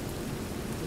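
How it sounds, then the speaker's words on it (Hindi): Heavy rain pours down at a railway platform, a steady, dense hiss of falling water with no voices over it. "बारिश जो है रुकने का नाम ही नहीं ले रही है अभी।"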